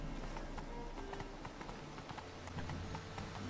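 Horse hooves clip-clop in The Witcher 3 video game, a quiet, brisk run of hoofbeats at an even trotting rhythm with faint background ambience and no talk over it.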